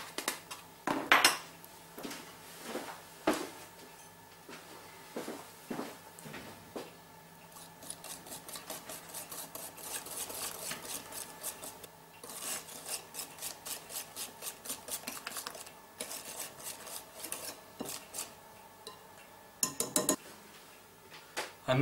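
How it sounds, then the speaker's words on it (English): A whisk scrapes and rattles rapidly against a bowl while brownie batter is mixed, with a few clinks and knocks at first, then a long run of quick rhythmic strokes, close up and with no talk. "I'll whisk that in as well"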